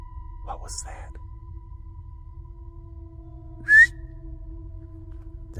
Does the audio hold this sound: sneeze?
no